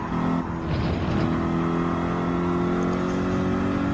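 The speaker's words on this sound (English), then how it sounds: "Gonna have to keep revving up" A Subaru WRX Group 4 race car in the Gran Turismo 7 video game holds a loud, steady high-revving engine drone throughout, close and continuous with a slight dip near the start.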